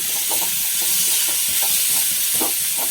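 Pappadam fry in hot oil with a continuous loud hiss and sizzle, broken by small bubbling bursts, close up and with no voices.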